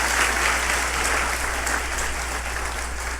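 A church congregation applauds in a dense, sustained wash of clapping that holds steady throughout.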